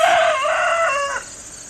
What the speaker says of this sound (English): I have chickens all over the place today.